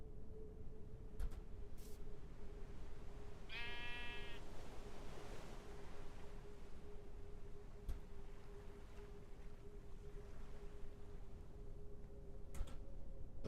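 A single short sheep bleat from the game Minecraft sounds midway through, fairly clear above a quiet ambient background hum with faint ticks and no speech.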